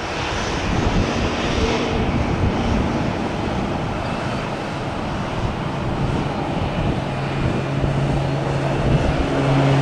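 A Beechcraft King Air 200 turboprop airplane roars steadily at close range at a sunrise airport, a broad continuous engine drone with wind noise lasting throughout.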